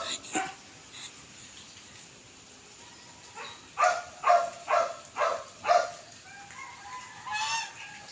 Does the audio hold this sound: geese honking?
yes